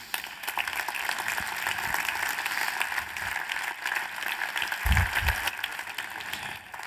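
Audience applause at a business forum welcomes McFit founder Rainer Schaller, a steady, moderately distant patter of many hands clapping continuously throughout, with a few heavier thumps near the end.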